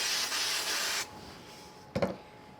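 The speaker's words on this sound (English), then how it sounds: "we will just add a bit of spray glue to the back" A steady broadband hiss of spray glue from an aerosol can for about a second, then a short, quieter burst after a pause, close by with no talking.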